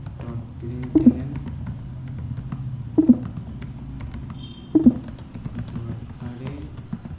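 Computer keyboard being typed on while coding a Java bubble sort program, steady soft clatter of keys with three louder accented clusters of strokes, close and continuous.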